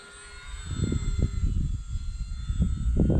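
An eFlite Mustang 1.2 m RC model airplane flies outdoors, its electric motor giving a rising and falling hum over a gusty, rumbling low-end wash that swells toward the end.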